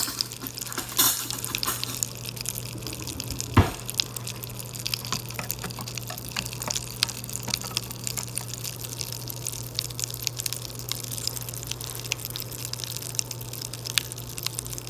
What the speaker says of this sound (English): Let's stir this up a little bit and see.